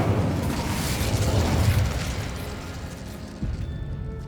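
Incendio fire spell cast in Hogwarts Legacy, a broad roaring whoosh of flame with a sustained rumbling burst that swells and then tails off, followed by a second smaller thump near the end.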